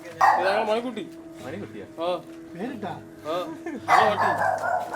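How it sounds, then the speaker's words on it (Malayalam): A household dog barks and yips at a house in Kerala, several short barks and whimpering calls spread through the stretch, mixed with people talking nearby. "ഉണ്ട്, പക്ഷെ അത് വീട്ടിലെ പട്ടിയാണ് കേട്ടോ."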